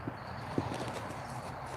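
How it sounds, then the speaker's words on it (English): A walking horse's hooves clip-clop in two or three soft, distinct strikes against steady background noise, heard at a moderate distance. "He's a good horse."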